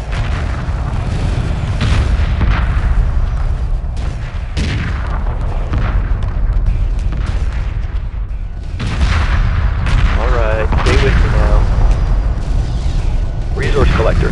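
Space battle from the game Homeworld, with continuous weapons fire and rolling explosions booming loud and dense throughout, under radio-style voices calling out attacks.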